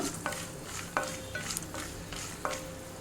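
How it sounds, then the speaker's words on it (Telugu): Dry red chillies fry with peanuts and a pinch of asafoetida in a pan, a faint, soft sizzle broken by a few light spatula scrapes and taps. "పల్లీలు వేగిన తర్వాత ఒక రెండు ఎండుమిర్చి వేస్తున్నాను"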